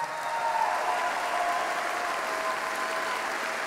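Audience applause at a Cardinals Hall of Fame induction ceremony, a steady, full wash of clapping from a crowd that holds evenly for the whole stretch, with no speech over it.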